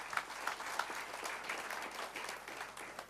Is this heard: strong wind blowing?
no